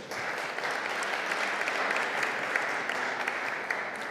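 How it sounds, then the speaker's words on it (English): Audience applause for panelists walking on at the Commonwealth Trade and Investment Summit, a steady, dense clapping from a large seated crowd that holds at an even level throughout, with no talk over it. "If you could give them a round of applause"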